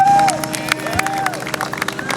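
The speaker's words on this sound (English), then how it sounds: "I would like for you all to give all of our speakers a round of applause" A rally crowd in Washington, D.C. claps and cheers for its speakers, a dense, steady wash of applause with scattered whoops and a whistle-like tone, moderately loud throughout.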